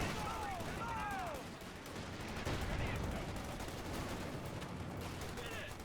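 Battlefield gunfire in Company of Heroes 2 around fighting positions and a bunker, steady crackling volleys layered with distant bursts and a few whistling tones, all at a low, continuous level.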